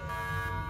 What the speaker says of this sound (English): What's that sound? That's the alarm.